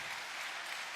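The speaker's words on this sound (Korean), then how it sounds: "박수로 한번 축하하겠습니다" A church congregation claps in welcome for newcomers during a Friday night service, a brief, dense, even burst of hands.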